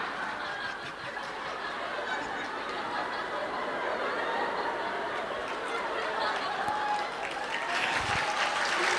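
A church congregation applauds during a sermon, a steady wash of clapping at moderate distance with faint murmurs and a few chuckles mixed in.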